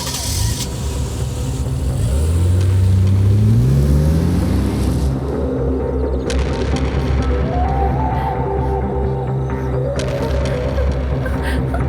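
A car engine revs up and accelerates as people drive off, loud and close, its pitch rising smoothly, then settling into a steady drone as further engine sounds continue.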